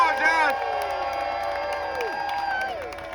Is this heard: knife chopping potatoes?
no